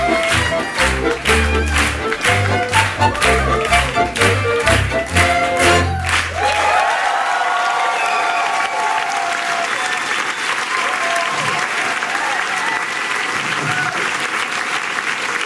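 A club audience applauds the ensemble after a sung Strauss number, with the last bars of music cutting off into loud, sustained clapping from a crowd that continues steadily and fills the room.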